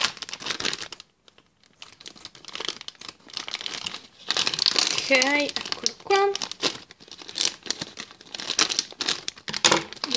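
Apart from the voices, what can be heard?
opening a plastic blind bag with scissors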